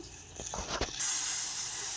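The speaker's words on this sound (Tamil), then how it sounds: "தண்ணி நல்லா கொதி வருது" A few soft knocks give way to a steady, close hiss of water boiling in a pot.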